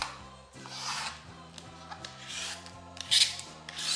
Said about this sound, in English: just turn it on its side and just start peeling the outer layer until you start seeing part of the orange of